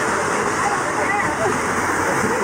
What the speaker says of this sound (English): we kind of traverse our way down this mountain stream, jumping off waterfalls.